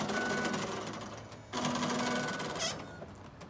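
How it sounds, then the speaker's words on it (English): A loose tailgate latch on a Mercedes ML350 W164 rattles with a faint, busy mechanical chatter that runs steadily, swelling briefly midway and fading toward the end. "that rattling noise is kind of strange, but I think it has to do with the latch."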